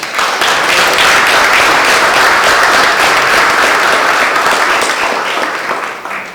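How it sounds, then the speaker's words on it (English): Sustained audience applause at a university presidential papers presentation, dense and steady across the whole stretch before tapering slightly at the end. "Yet that deserves a round of applause"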